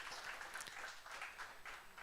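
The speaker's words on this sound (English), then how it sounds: "One more round of applause, please." Another round of applause at a business knowledge summit, a quiet, distant wash of audience clapping sustained evenly across the moment with no voices on top.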